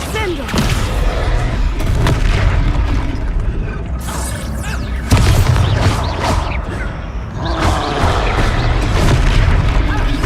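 A Descendo spell slams down in Hogwarts Legacy, heavy booms landing amid clanking, ratcheting mechanical effects and scattered bursts, loud and dense throughout, with a brief spoken word mixed in.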